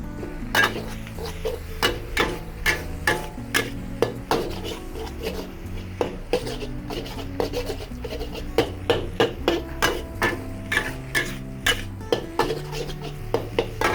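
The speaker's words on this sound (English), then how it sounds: "I have to break the rice." A utensil knocks and scrapes against a pan while cooked rice is stirred and broken up for spicy nasi goreng, with repeated sharp clatters in an irregular rhythm, close and loud over background music.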